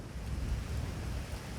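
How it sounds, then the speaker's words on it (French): A storm striking the coast at La Rochelle: steady, dense rain hiss with a deep low rumble underneath, continuous and fairly loud throughout with no breaks. "la tempête a frappé La Rochelle de plein fouet"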